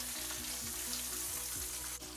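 Blended onions, ginger and garlic fry in oil in a pan for Ghanaian jollof rice, giving a loud, steady sizzle with faint rhythmic stirring.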